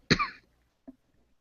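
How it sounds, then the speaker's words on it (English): A single sharp, close cough bursts out, followed after a short pause by a faint second catch of the throat. "are you coughing up a lung right"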